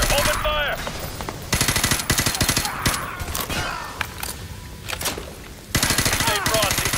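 Rapid automatic gunfire in Call of Duty: Modern Warfare 2 Remastered, with loud bursts of machine-gun fire and single shots over a combat soundscape and shouted voices.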